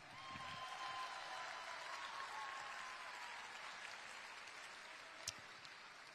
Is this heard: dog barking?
no